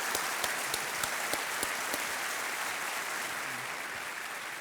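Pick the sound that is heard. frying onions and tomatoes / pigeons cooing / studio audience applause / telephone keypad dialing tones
studio audience applause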